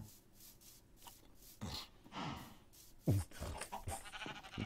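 Sheep in the Minecraft StoneBlock 2 game bleat in a few short, moderately loud calls spread across the moment, with faint in-game background noise between them.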